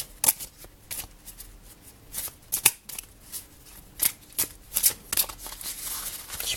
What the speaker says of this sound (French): Et puis le bruit que font les cartes.